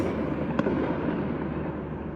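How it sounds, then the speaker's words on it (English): Distant fireworks rumble and crackle in a continuous low roar, with one sharper pop standing out early on. "It's fireworks."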